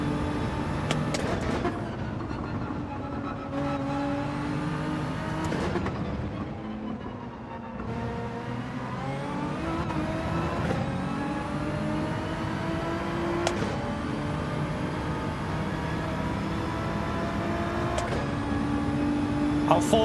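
A BMW GR.3 race car engine in Gran Turismo 7 screams through shifting revs, rising and falling as gears change, with other cars droning close behind in a continuous loud roar.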